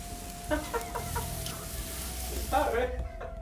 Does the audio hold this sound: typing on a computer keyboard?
no